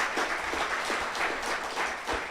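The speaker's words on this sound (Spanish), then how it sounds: "Den un aplauso fuerte al Señor." A church congregation claps loudly in a sustained round of applause during a sermon, dense overlapping handclaps swelling and dipping in rhythmic pulses with no voice on top.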